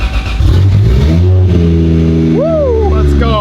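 Jeep SRT8 engine cranks and catches, then revs up loudly and holds a throaty idle, with rising and falling pitch sweeps as the throttle is blipped, close to the microphone.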